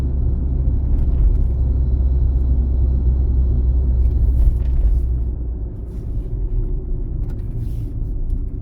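A car pulls out onto an examination driving route in Cherkasy, a steady low engine rumble that swells, then eases off slightly toward the end, heard from nearby without talk.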